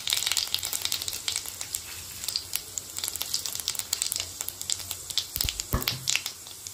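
Whole spices, dried red chillies, bay leaf, cumin and fennel seeds crackle and sizzle steadily in hot oil in a home kitchen pan, with dense continuous spitting and a brief stirring scrape near the end.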